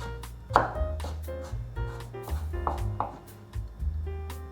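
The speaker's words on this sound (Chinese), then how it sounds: "把红萝卜切丝" A knife cuts a carrot into thin strips on a board, giving a series of crisp, close chops in an uneven rhythm, moderately loud and without speech.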